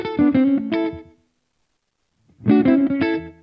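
Two short bursts of distorted electric guitar run through a Primo APFX effects plugin set to digital mode, each a quick run of bright picked notes separated by about a second of silence.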